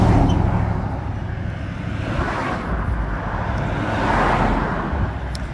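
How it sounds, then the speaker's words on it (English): Cars pass along a roadside where pink evening primrose grows in Carbondale, Illinois, as a steady close traffic rush that swells and eases as vehicles go by, with no talk. "it's gonna be cars."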